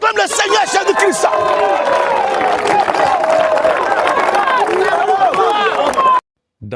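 A large crowd at a church gathering cheers and acclaims, a dense, continuous roar of voices and shouts that stays loud for about six seconds before cutting off abruptly into silence.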